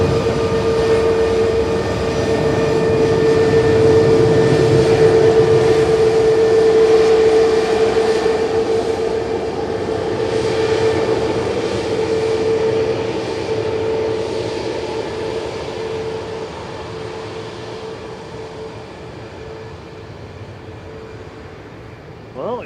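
An airliner on flight 6727 from Lisbon at Manchester Airport, an aircraft delivered in March 2024, gives a loud, steady engine roar with a sustained whine that slowly fades over about twenty seconds.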